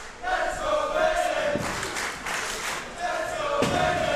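A wrestling crowd at Wolverhampton roars and cheers steadily through the hall, a continuous loud wash of voices with brief swells and thuds, while a commentator talks over it.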